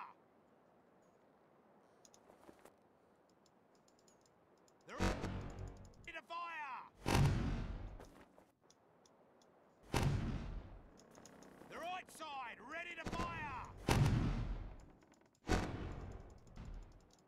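Cannons fire from ships in the Sea Dogs video game, with loud booming blasts arriving in separate volleys at irregular intervals and quiet gaps between them.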